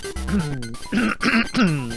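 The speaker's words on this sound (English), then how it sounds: "I'm coughing again." A few short, rough coughs and throat-clearing sounds, close and fairly loud, spaced over a couple of seconds.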